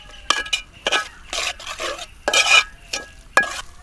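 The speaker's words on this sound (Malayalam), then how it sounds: "ഒരു 2 ടീസ്പൂണ് സോയാ സോസ് നല്ലോണം മിക്സാക്കി കൊടുക്കുക" Soy sauce stirred into pepper chicken in a pan, a run of quick scraping and clinking strokes of a utensil against the pan with a light sizzle, close and fairly quiet with no talking.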